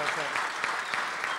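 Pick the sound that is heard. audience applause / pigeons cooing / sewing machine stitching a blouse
audience applause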